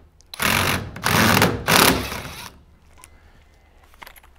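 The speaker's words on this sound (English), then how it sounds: "using a 6-point E9 socket, we're taking off all of these mounting screws" Power tool with a 6-point E9 socket removing mounting screws from a Tesla Model 3 battery pack, giving three loud close buzzing bursts in quick succession, then quiet.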